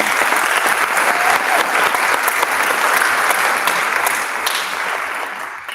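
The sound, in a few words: audience applause for graduating seniors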